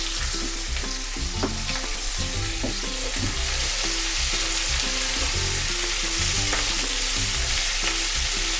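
Green, red and yellow capsicum sizzling loudly in a pan, with repeated scraping and stirring strokes of a spoon against the metal over a constant frying hiss.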